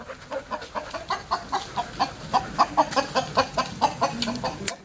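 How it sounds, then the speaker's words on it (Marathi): A rooster in a village setting clucks in a steady run of short, close pulses, roughly four or five per second, continuing for about five seconds against faint background noise. "तो बघ कोंबडा"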